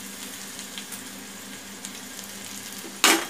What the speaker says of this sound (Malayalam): വറ്റൽമുളക് മുറിച്ചതും കൂടി ഇട്ട് കൊടുക്കാം